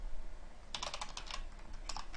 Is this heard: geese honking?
no